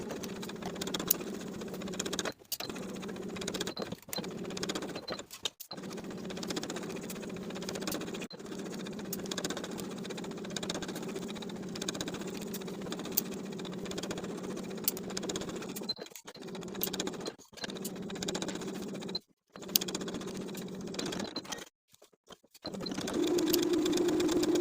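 A sewing machine runs steadily, stitching around a dress bodice neckline and armholes with a half-inch seam, humming almost continuously with a few brief stops.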